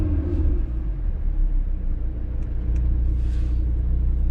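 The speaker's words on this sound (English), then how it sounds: "So this is how the car sounds with the exhaust valves closed." A 2018 Audi TT RS engine with its exhaust valves closed, heard as a steady, muffled, deep idle rumble up close, even and subdued with no revving.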